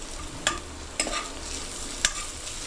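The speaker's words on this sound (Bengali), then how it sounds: "রসুনটাকে দেখুন ভেজে নিচ্ছি" Garlic and ginger fry in oil in a pan with a soft steady sizzle, punctuated by three sharp scraping stirs of a spatula.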